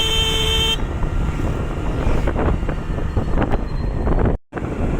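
Strong wind gusts roar across the microphone outdoors after rain with fallen trees about, loud and blustery throughout, with a brief tone at the start and a sudden dropout near the end.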